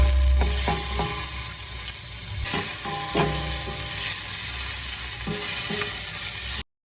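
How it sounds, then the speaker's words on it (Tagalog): Garlic and ginger sauté in a hot pan for salmon sinigang, giving a steady bright sizzle throughout, with occasional soft clicks and scrapes of stirring close by. "Gisain lang natin ito hanggang sa maging aromatic ang mga ito."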